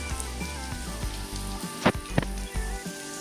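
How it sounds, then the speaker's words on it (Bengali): Fish roe fritters bound with gram flour fry in hot oil, giving a steady, close sizzle with a few sharper pops breaking through. "তেলের মধ্যে আমার সব ডিমের বড়াগুলো দেয়া হয়ে গেছে"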